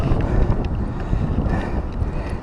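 Strong wind buffets the microphone during bass fishing on Lady Bird Lake, a loud continuous rumbling roar with no speech over it.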